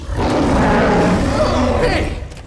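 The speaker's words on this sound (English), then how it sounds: "He's introduced as a man-eating beast with this massive roar." A loud, growling roar from a man-eating beast in a Star Wars movie, rough and sustained for about two seconds before tapering off.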